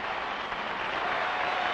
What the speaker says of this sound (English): the entire team deserves congratulations and applause,